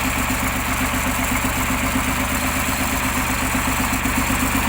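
A heavy T-150 crawler tractor engine idles steadily with a loud, even rhythmic chug close by, unbroken and without voices.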